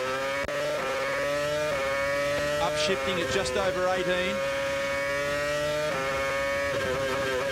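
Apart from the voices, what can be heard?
Formula One car engine revving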